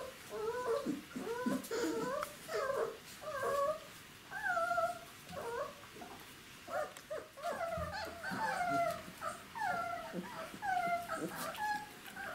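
Czechoslovakian wolfdog puppies, about three weeks old, whimper and squeal in a steady run of high, wavering cries, close by and overlapping, with no talk over them.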